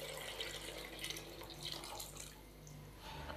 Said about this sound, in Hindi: मैं इसके अंदर 6 गिलास पानी शामिल करूँगा